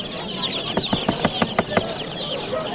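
Chickens cluck at a poultry market, a quick run of short, close clucks over a busy background murmur.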